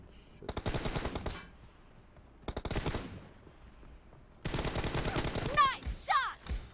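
Rapid automatic gunfire bursts from a mobile battle royale shooter, Battlegrounds Mobile India, in three loud stuttering volleys separated by short pauses, the last burst mixed with whooshing game effects.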